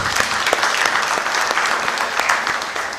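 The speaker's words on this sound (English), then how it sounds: "Can we give them again another clap?" Audience applause at an international scientific conference session, a steady dense wash of clapping filling the hall for a few seconds with scattered sharper claps, no talking over it.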